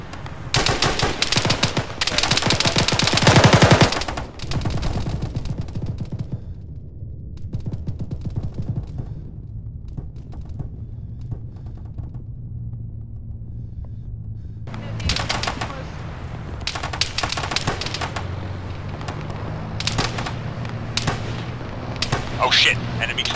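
Heavy automatic gunfire on a beachfront in the military game Arma 3: a loud opening burst, then quieter distant shots, and later renewed sharp volleys near and far, with radio-style voices talking between them.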